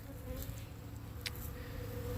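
Honeybees buzz steadily while feeding on Ultra Bee pollen substitute outdoors in sunshine, a dense, continuous drone of many insects close by, with individual bees briefly zipping past.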